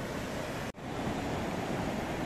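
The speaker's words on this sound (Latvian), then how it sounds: "ļoti skaisti šeit ir atkal okeāna krasts" Atlantic Ocean surf breaking on a beach in Morocco, a steady loud wash of waves with a brief dropout near the start, no voices.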